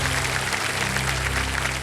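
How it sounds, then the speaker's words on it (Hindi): Studio audience on the Kaun Banega Crorepati game show applauding, a dense steady roar of clapping, loud and close, with no voices over it. "जोरदार तालियां बज जाए इधर से भी,"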